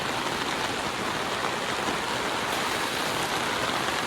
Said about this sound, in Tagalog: Naglakas na po lalo yung ulan mga kalingap.